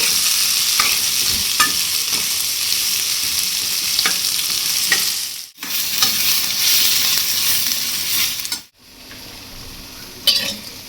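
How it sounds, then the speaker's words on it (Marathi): Onion sautéed in a pan until pink: continuous close sizzle with frequent spatula scrapes and taps, briefly cut off twice before resuming, no speech. "हा कांदाही आपल्याला गुलाबी रंग येतोपर्यंत चांगला परतून घ्यायचा आहे"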